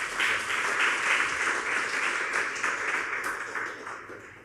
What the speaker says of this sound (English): let us still give her a round of applause